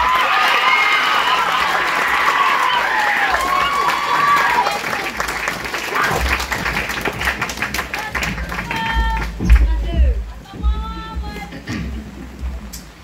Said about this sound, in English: Please give a big round of applause to this year's salutatorian, Isabella Sophia Costacat.